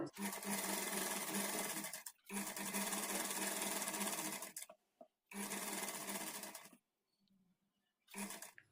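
A sewing machine double-stitches a blouse sleeve in four loud, steady runs, each a few seconds long, broken by short pauses and a faint click before the last burst.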